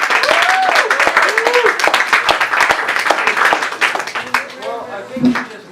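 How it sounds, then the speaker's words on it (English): Comedy club crowd clapping and whooping for a comedian at Club Rio Linda, a dense burst of close hand claps with shouts and voices over it, thinning out as talk takes over. "Start clapping your hands right now for my man"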